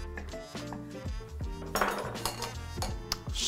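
A tray of tomatoes clatters as it slides into an oven, a quick series of close metallic clinks and scrapes with brief ringing, no talking.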